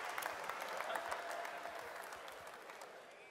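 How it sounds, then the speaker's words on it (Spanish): Crowd applause at a rap battle in an arena, a steady hiss of many hands clapping at a distance for a few seconds, fairly faint and with no voices on top. "¡Fuerte el aplauso!"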